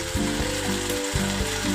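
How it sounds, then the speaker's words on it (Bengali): Sauces for chilli cauliflower (gobi Manchurian) fry in a pan over a high gas flame, giving a steady bright sizzle with repeated low clunks and scrapes throughout. "গ্যাসের আঁচটাকে বাড়িয়ে নিয়েছি, ভালোভাবে একটু কষিয়ে নেব"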